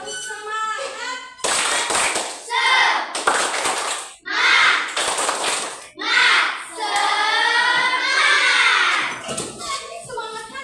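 Classroom of children performing a rhythmic spirit clap, loud bursts of group clapping in patterned sets alternating with children chanting together, close and energetic.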